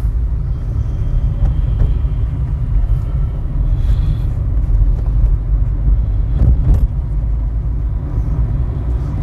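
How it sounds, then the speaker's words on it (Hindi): A Hyundai i20 running on CNG drives along a road, giving a steady, loud low rumble of engine and road noise with faint wind buffeting and no pauses. "Hyundai Itron i20 on road now, running absolutely fine."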